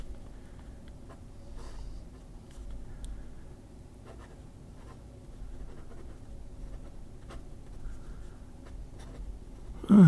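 Diplomat fountain pen scratching a thin, textured line across paper, a soft, close, continuous dry rasp with faint strokes and a sharper handling noise at the very end.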